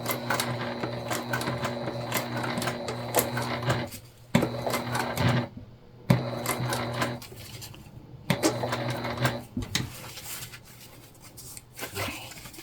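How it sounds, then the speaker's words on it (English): A sewing machine stitches a crossbody bag in rapid, mechanical runs, stopping and restarting several times with brief pauses and fabric handling between the bursts. "And now I'm sewing"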